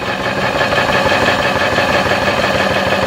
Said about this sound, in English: Now if I run the grinder, and I'll increase the voltage and you'll hear the difference.